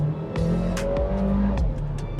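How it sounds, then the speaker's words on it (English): A 2023 MG GT Sport accelerating hard, its engine note rising steadily and loud from inside the cabin, with brief gear-change dips along the way and no talking. "we're gonna do a little acceleration pull right here."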